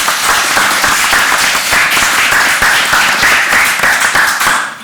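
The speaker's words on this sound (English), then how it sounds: "Give them a round of applause" A loud round of applause from an audience at a panel discussion on teaching research, many hands clapping densely and continuously close by, tapering off at the end.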